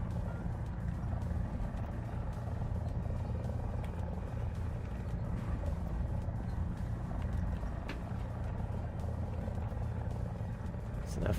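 An F-100 jet flying in the combat game War Thunder gives off a steady, dense engine roar with low rumble that holds through the whole stretch, while someone talks over it.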